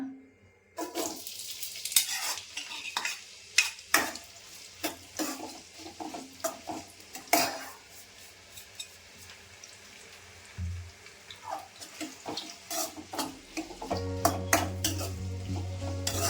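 Onions frying in hot oil for a mint rice bath gojju, with loud crackling sizzle and frequent sharp scrapes and clinks of a spatula stirring against the pan, close and continuous, no talk.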